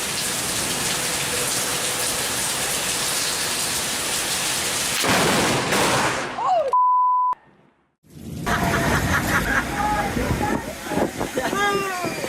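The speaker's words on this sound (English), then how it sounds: "it'll start getting real windy in just a second." Heavy rain and wind roar loudly, broken by a sharp beep and a moment of silence, then the storm resumes with voices shouting through it.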